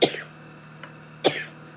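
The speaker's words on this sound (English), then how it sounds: "I don't know where this cough's coming from right now." Two sharp coughs from one person, the first right at the start and the second just past the midpoint, each a short loud burst over a steady low hum, with near silence between them.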